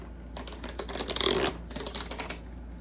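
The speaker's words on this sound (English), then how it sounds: "So we can undo the zipper." A zipper is pulled open in quick ratcheting bursts, close and crisp, with a longer smooth zip in the middle and no talking.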